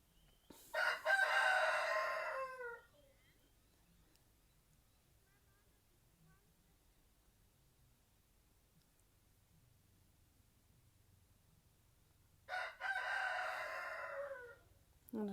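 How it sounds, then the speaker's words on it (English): A rooster crowing inside a tack room that doubles as an office, two loud close crows about ten seconds apart with quiet room noise between them. "Excuse the rooster."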